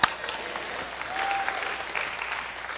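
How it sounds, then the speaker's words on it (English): An audience at a talk bursts into applause, a dense wash of clapping that swells and holds steadily for a few seconds without voices over it. "You wanted to clap."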